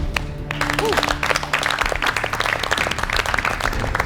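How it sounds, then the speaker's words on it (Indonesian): A MasterChef Indonesia studio audience applauds in a steady, dense wash of clapping, with a voice talking over it at the start. "So, give us applause"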